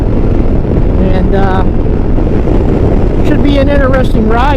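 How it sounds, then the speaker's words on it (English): Strong wind buffets a microphone during a motorcycle ride on Arkansas Highway 123, a loud, continuous roaring rumble that fills the whole clip while someone speaks faintly underneath. "It's very windy."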